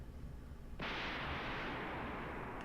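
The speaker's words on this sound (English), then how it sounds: "An explosion shakes the air." A sudden loud explosion in the visual novel game Higurashi Matsuribayashi erupts out of a low rumble, then settles into a sustained roaring, crackling wash of noise that carries on to the end.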